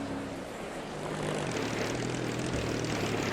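Kong monster truck with an Allison engine roaring steadily at a monster truck show, a loud continuous engine drone with low rumbling tones that swells slightly midway and holds through to the end.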